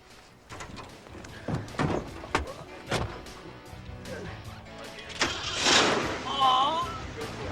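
A 1980s car has a door shut with a few heavy thunks, then its engine cranks and catches with a rough, uneven start and rises louder near the end. Voices speak over parts of it.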